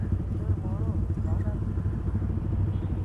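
A Harley-Davidson motorcycle rumbles past with a deep, continuous engine drone at a group weekend ride, loud and steady throughout, with faint voices and road noise mixed in.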